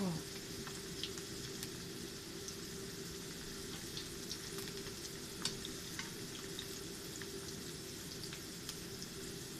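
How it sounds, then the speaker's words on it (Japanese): Turnip pieces deep-frying in hot oil give a steady, close sizzle with a dense crackling hiss and scattered pops, continuous throughout with no talking. "できてそうなのは揚げていきましょう。"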